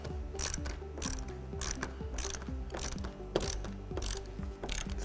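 A hand ratchet tightens the upper mounting bolts of a Razorback Off Road fold-down glass windshield on a Polaris RZR, giving repeated clicking strokes in quick, close rhythm with no talk.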